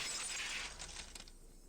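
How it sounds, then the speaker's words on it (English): Glass shatters in the visual-novel game Higurashi When They Cry, a sharp, bright crash that rings out and scatters into faint tinkling shards before fading to quiet. "The unpleasant, piercing sound of shattered glass."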